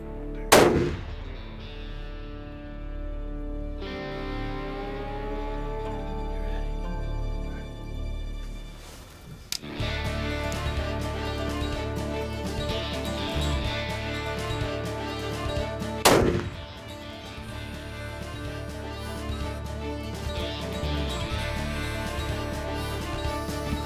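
Rifle shots with 180-grain Berger VLD hunting bullets on a South Texas whitetail hunt ring out as two sharp, loud reports separated by several seconds, each trailing into a long rolling echo over quiet outdoor background.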